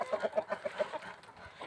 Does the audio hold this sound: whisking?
no